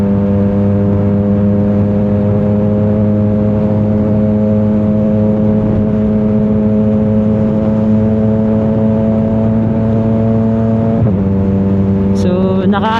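CFMOTO 675SR-R motorcycle with a cut, decat exhaust, loud close engine note holding a steady rumbling idle-to-mid rev, then dipping and rising sharply near the end.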